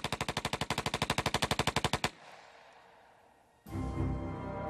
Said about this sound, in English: Vern Miller was reportedly so good with a machine gun, any machine gun, that he could write his name in bullets